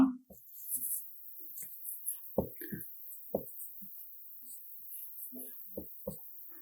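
A hand writes a word during a Bengali pronunciation lesson, making short scratchy strokes and taps. A teacher's voice speaks faintly over the writing.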